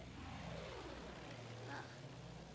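Distant enemy plane droning overhead in Battlefield 1, a faint steady engine hum that shifts slowly in pitch as it passes, quiet and continuous.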